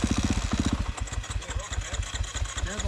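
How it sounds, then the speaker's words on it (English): Motorcycle engines started and running after sitting, a close, steady thumping idle with rhythmic low pulses and some uneven firing, no talk. "all the bikes were started"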